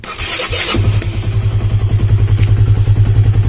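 A Honda CB150R motorcycle engine cranks briefly with the starter, then catches and settles into a loud, close, even idle with a regular pulsing beat.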